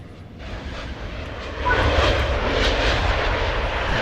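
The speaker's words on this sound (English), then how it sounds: "the plane sounds are phenomenal" A fixed-wing airplane engine drones in the Train Sim World 3 video game, a steady broadband roar that grows louder midway and holds, with no talk over it.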